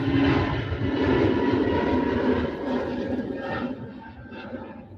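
An airliner takes off at Manchester Airport, its steady jet roar loud and broad, holding then slowly fading as it climbs away, with no talk.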